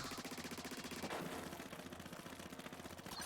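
A splatling weapon in Splatoon 3 fires a fast, even stream of rapid shots, a steady rhythmic rattle that is fairly faint and carries on without a break.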